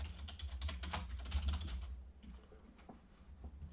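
Rapid, close computer keyboard typing as a crypto wallet name is entered, a dense burst of clicks that slows into a few scattered keystrokes.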